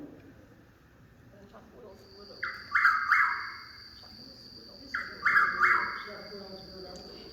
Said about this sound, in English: This is the Chuck Will's widow, and it's the one that breeds in our area.